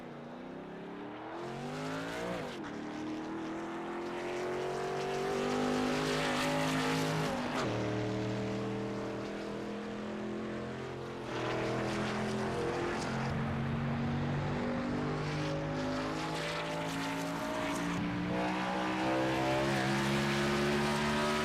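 A race truck's engine drones and shifts pitch through repeated gear changes as it heads onto the pit lane at Motegi in a truck-series racing game, loud and continuous with no talk.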